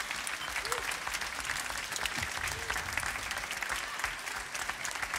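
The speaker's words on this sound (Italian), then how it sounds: "Quindi un grande applauso io lo farei a tutti voi innanzitutto." Theatre audience applauding at an orchestral concert of Disney cartoon music in Pontedera, a dense, continuous wash of clapping filling the room at an even, moderately distant level, with faint voices beneath.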